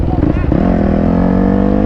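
A dirt bike engine runs on a wheelie machine, a steady loud drone with a brief rev near the start, holding a constant pitch close by.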